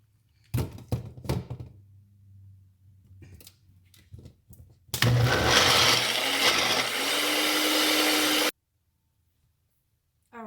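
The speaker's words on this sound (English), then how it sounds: "And then I have my blender right there." A kitchen blender whirs loudly for about three and a half seconds as it blends banana, blueberries and spinach into a smoothie, then cuts off sharply. Clunks and knocks from setting it up come first, with no voices.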